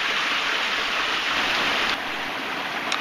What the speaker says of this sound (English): Turns out Buck Branch is actually a pretty good sized creek.